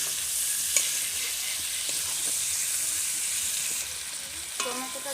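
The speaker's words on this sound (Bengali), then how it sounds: "টমেটোটা দিয়ে ভালো করে নেড়ে নেব।" Tomatoes added to fried onions and whole spices sizzle in a pan as a spoon stirs them, producing a soft, continuous frying hiss broken by a few scraping clicks, close by, with no talk.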